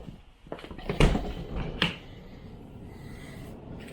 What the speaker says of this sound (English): I will open one of the side doors actually